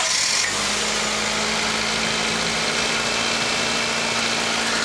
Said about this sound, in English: So what we're doing is we're running the engine so the fluid can get moving through the system.